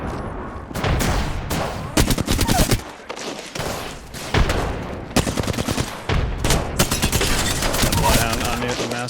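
Shotgun blasts from the Mastiff in the game Apex Legends, loud close bursts packed with rapid gunfire and impacts across the whole stretch, with a voice faintly underneath.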